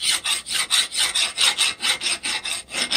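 A steel file works a brass inlay set in steel, giving about a dozen steady rhythmic rasping strokes, close and loud with no talking.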